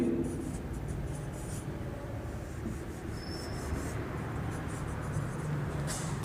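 Chalk or marker scratches across a board during a maths lesson, producing soft continuous rubbing and scraping strokes at a steady, fairly quiet level.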